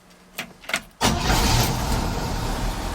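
A boosted six-cylinder car engine cranks with a few short clicks and starter whirs, then catches and roars into a loud, steady run, close by.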